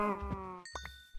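A Minecraft sheep bleats once, a short close synthetic bleat, followed by a few soft thuds and a faint tinkling chime.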